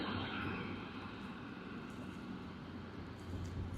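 A Falcon jet taking off at Sydney Airport makes a steady, distant engine roar, a broad rumble that holds fairly even throughout with no voices.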